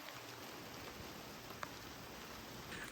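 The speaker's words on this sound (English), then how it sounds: "More rain." Rain falls steadily in a rainforest, a soft continuous hiss with a few faint drops standing out. It is fairly quiet and there are no voices.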